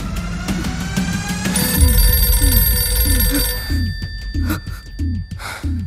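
A telephone rings in repeated bursts of bright, metallic trilling, loud and close, a dense ringing tone first and then clipped pulses that carry on for several seconds.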